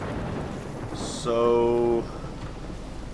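Steady rain hisses through a scene in the video game Life is Strange, a soft continuous wash under a brief spoken word.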